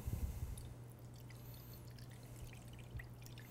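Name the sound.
water poured into a baking pan for a water bath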